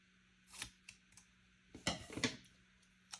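Scissors snip paper being cut for a Happy Planner, giving a few sharp, quiet, close snips and clicks separated by pauses, with no voices.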